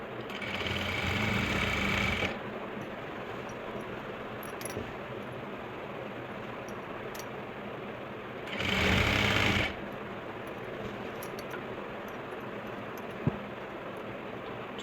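Sewing machine stitching an Afghani salwar, heard as two loud bursts of fast whirring stitching separated by a quieter stretch, with small clicks and one sharp tap in between.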